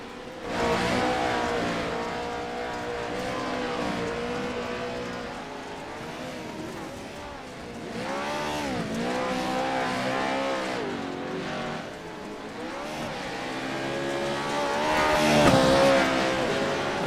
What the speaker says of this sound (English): These trucks are so much fun.